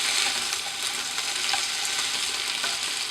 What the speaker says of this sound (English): add our blanched vegetables to the oil and stir them around quite quickly